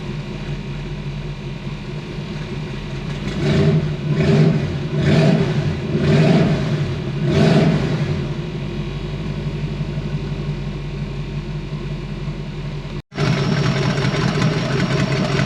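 A car with no choke warming up, with a steady idle broken by about four quick rhythmic revs early on, then settling back to an even idle, close and fairly loud.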